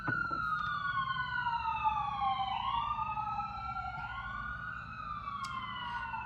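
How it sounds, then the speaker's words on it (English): A wailing siren sweeps up and down steadily, loud and fairly close, with a low rumble of traffic underneath. "You hear the sirens? It was like an emergency."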